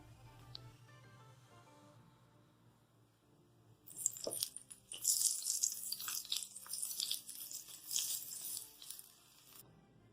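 After a quiet start, cumin seeds hit hot oil as a tempering for dahi phulki chaat and burst into a sharp, crackling sizzle that hisses steadily for several seconds before stopping.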